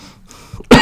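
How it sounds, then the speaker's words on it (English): A single short, close cough with a throaty clearing, loud and abrupt at the end after a brief quiet stretch. "I don't care that I'm coughing or something like that"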